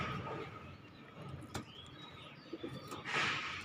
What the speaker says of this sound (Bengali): জোড়া নিয়ে হয়তো ডিমপ্রার একটা প্ল্যান করছিল কবুতরগুলো